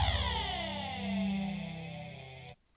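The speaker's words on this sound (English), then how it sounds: "if you put it through Thor, that's what it sounds like" A synth chord run through a Thor formant filter sustains with a sweeping vowel-like, swirling tone for about two and a half seconds before stopping abruptly.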